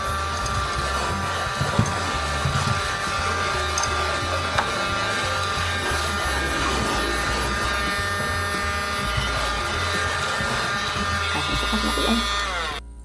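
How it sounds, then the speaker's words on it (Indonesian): A small handheld mini vacuum cleaner running steadily on a dirty tabletop, giving a loud, continuous motor whine with a buzzing hum. The motor cuts off near the end. "Karena mejanya kotor, jadi aku bersihkan dulu dengan menggunakan mini vakum ini."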